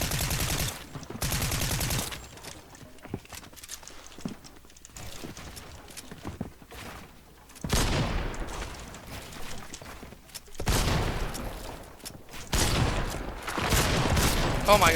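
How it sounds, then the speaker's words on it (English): Precision SMG fire in the Fortnite video game, with loud sustained bursts of rapid automatic shots separated by quieter stretches of game sound. "we'll just finish them off by beaming them with the Precision SMG"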